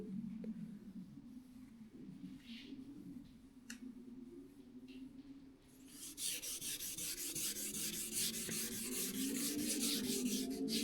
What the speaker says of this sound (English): A bit more sanding anyway.